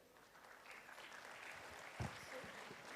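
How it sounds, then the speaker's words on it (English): An audience at a summit session on the North East handloom sector claps for the speakers, a faint, steady patter of applause from a crowd throughout, with a brief louder moment midway. "A round of applause for our speakers"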